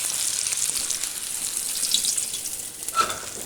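Hot fat poured off a pan of seared steak with rosemary, a soft steady hiss and trickle of liquid with a brief splashy clatter near the end, close and moderately quiet, no talking.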